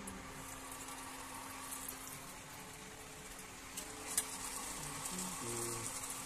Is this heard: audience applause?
no